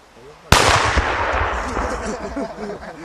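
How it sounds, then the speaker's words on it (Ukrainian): A training grenade detonates in a sudden sharp blast, followed by a loud rolling rumble that slowly decays over a few seconds. "Вона, хоч і навчальна, а вибухає так, що змушує здригнутися."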